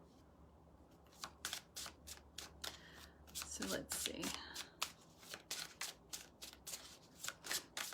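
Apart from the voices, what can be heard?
shuffling a deck of tarot cards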